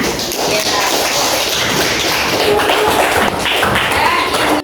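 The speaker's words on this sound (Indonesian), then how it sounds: "tepuk tangan ya" Pupils in a classroom clap their hands during a lesson on caring for orphans, a loud continuous patter of many hands with shuffling and thuds mixed in, fairly close.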